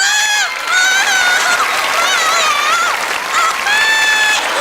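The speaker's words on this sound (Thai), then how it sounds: "ขอเสียงปรบมือ" Applause and crowd noise from a studio audience on a Thai karaoke TV show, with a voice singing or wailing in sliding tones over the clapping and a loud, close sound.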